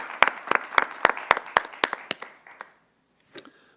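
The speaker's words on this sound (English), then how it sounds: "Let's give them a round of applause" An audience gives a brief round of applause for a sustainability team at a Louisville government event: a handful of distinct, sharp claps in an even rhythm that thin out and fade, with one last stray clap after a short pause.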